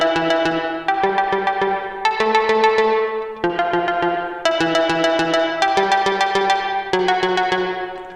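A GarageBand arpeggiator cycles through pad chord notes in even repeating synth patterns, bright and sustained with decaying tails, the pattern restarting roughly every second over a steady low tone, with no voices.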